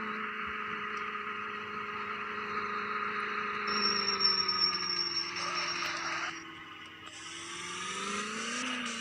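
A Mahindra Bolero SUV, rear-wheel drive and modified with an off-road look and roof rails, driving along with a steady engine hum whose pitch shifts as it changes speed, heard from inside without talk.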